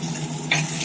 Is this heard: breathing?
no